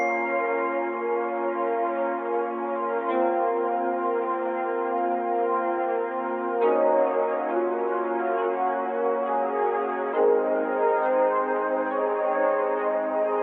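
A warm, sustained synth pad plays a slow chord melody, changing chords every few seconds, smooth and continuous with no drums or voices.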